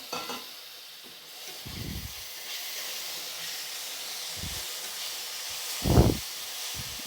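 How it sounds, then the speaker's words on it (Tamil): Chopped tomatoes sauté with onions in a pan, giving a soft, steady hiss of sizzling, with a few thumps and scrapes of stirring, one louder near the end. "இப்போ தக்காளியை போட்டுக்கலாம்"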